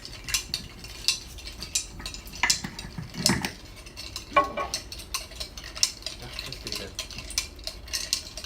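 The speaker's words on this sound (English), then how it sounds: "I think you have to start stirring and stirring and stirring" A spoon clinks and scrapes around a pot while an oil mixture is stirred, giving irregular metallic taps and swishes with a brief muffled thump partway through, fairly close and with no talking.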